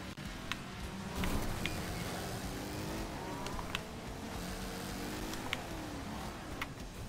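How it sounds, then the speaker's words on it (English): A car engine accelerates in a driving video game, a steady low droning hum with faint rising tones and occasional light ticks, fairly quiet throughout. "Backwards, hit accelerate. Accelerate's going."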